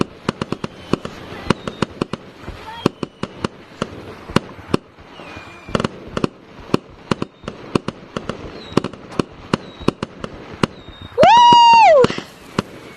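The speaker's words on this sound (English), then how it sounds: "I knew those were gonna shoot out fireworks." Fireworks in the video game Gorilla Tag: a rapid series of sharp pops and crackling bursts, irregular and fairly loud, with a rising-falling whistle near the end.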